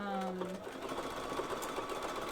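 A sewing machine running a 3-step zigzag stitch on underwear fabric, a quick rattling mechanical chatter of repeated needle strokes that starts with a brief motor whir and continues steadily and close.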